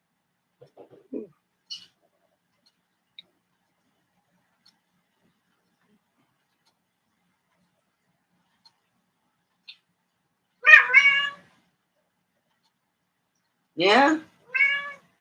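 A pet cat meows several times, loud and close, in two short bursts after long quiet, with a brief word spoken by a person earlier.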